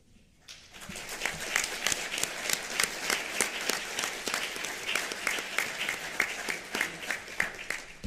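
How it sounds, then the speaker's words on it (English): An awards-ceremony audience breaks into steady clapping after a brief quiet start, a dense, room-filling wash of applause with sharper individual claps standing out in a loose rhythm, sustained for several seconds without speech. "Let's keep that clapping up"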